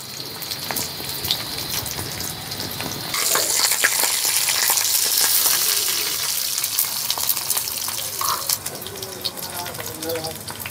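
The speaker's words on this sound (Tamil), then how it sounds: "நல்லா இந்த மாதிரி கோல்டன் ப்ரௌன் கலரில் வதக்கணும்." Ingredients with ginger sizzle and fry in a pan while being stirred to golden brown, a steady hiss that grows louder partway through, with occasional scraping and clinks close by.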